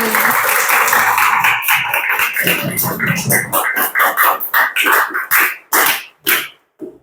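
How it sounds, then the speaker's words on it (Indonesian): A school class claps hands together in a lively patterned rhythm, starting as dense clapping and breaking into separate sharp bursts of single and double claps with short pauses between. "Tepuk tangan untuk kita semua hari ini."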